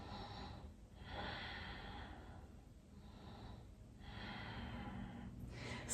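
Slow, steady breaths during a yoga pose: about three long inhale-exhale cycles, soft and close, with airy rushing on each breath and no talking.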